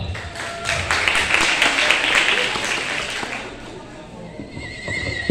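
Audience at a school dance performance for eighth-grade girls, clapping and cheering loudly with excited whoops, the crowd noise thinning out toward the end.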